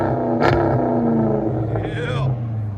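A cammed 2005 Chrysler 300C with its 5.7L HEMI V8 and true dual Flowmaster Outlaw exhaust rumbles loudly and steadily close by, with a brief rev swell, while voices talk over it.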